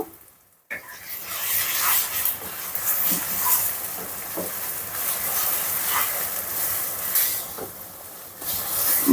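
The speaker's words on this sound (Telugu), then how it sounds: "గోంగూర ఇలా బాగా ఫ్రై అయింది కదా" Gongura leaves frying in oil for a chicken pickle, a loud continuous sizzling hiss with scattered pops and crackles, starting abruptly after a brief silence.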